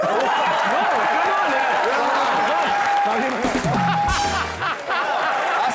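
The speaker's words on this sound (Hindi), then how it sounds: "रितेश के लिए जोरदार तालियां हो" Studio audience applauding for Riteish on a comedy show set in the Sharma house, a steady, dense wash of clapping with some laughter mixed in, lasting throughout and dipping briefly near the end.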